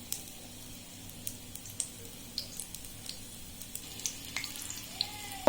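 Coconut oil with added green camphor simmers in a pan on a stove, giving a soft continuous bubbling sizzle dotted with small, regularly spaced pops, close and fairly quiet.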